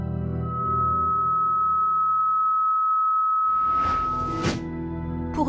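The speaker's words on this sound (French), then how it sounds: "Et voici le son des vibrations produites par une étoile qui tourne à grande vitesse." Sonified gravitational-wave vibrations from a rapidly spinning star: a steady pure sine tone holds alone for several seconds over a low harmonic drone, then rising chirp-like sweeps and a brief whooshing burst close it out.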